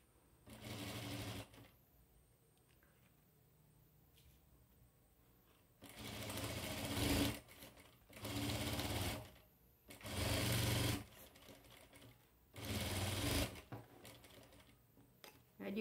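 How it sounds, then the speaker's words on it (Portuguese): A sewing machine stitches bias binding onto fabric scraps in short bursts of fast, rhythmic whirring, about five runs separated by quiet pauses. "Eu tô pregando viés aqui, ó."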